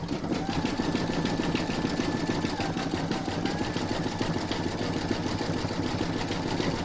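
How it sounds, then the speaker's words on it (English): An embroidery machine runs a zigzag satin stitch around the raw edges of an appliqué hippo block. It makes a steady, close mechanical whir with fast rhythmic needle chatter that never lets up. "pop that into your machine and stitch round number 7, and that's going to zigzag the raw edges around the hippo and the inner frame"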